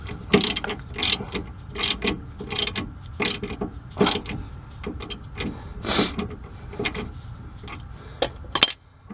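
A hand ratchet clicks in rapid, uneven bursts while snugging a tie rod nut on a Ford F150, close and crisp, with short pauses between strokes.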